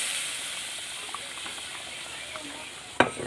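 Boiled rajma beans frying in a pan with raw potatoes give a soft, steady sizzle and hiss, ending with a sharp clatter near the close.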